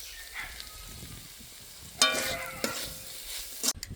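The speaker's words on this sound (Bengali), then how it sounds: "এবার কিছুক্ষণ রান্না করে নেব। আর একটু জাল করে নেব।" Meat filling spiced with garam masala sizzles and fries in a pan while a spoon stirs it, with clattering scrapes growing louder and busier partway through; close and steady, with no talking.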